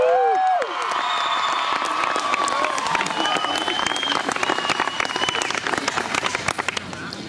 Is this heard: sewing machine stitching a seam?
no